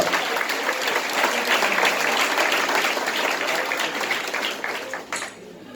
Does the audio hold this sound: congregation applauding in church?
yes